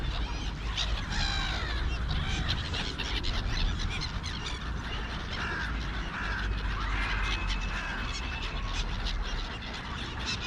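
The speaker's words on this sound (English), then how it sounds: "Crows are going to get in there and get their peanuts in the shell." Crows caw repeatedly at a backyard bird feeder on a cold day, with other birds calling under a steady outdoor background hiss.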